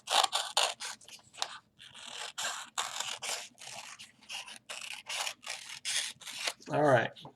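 Scissors snip repeatedly through construction paper during a children's cut-and-paste craft activity, giving a steady run of close, crisp cutting strokes, with a brief voice near the end.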